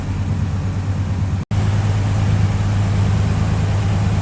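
A 1954 Ford F-100 stepside pickup idles with headers fitted, a steady, close, throaty low-pitched idle broken by one brief dropout.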